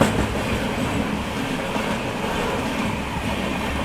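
The Mumbai–Howrah Gitanjali Express crosses at Bhilai with a loud, steady, close rumble of wheels and carriages rolling past without a break.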